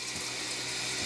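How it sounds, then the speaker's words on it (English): Air pressure forces leftover water out of a Tab 400 travel trailer's plumbing lines during winterizing, a steady, even rush of spraying water and air with no pauses. "the air pressure is filling the lines, and that's going to push any additional water out"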